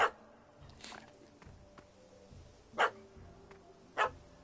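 A puppy in The Witcher 3 gives several sharp, loud barks at irregular intervals, three or four in all, over a quiet, low background.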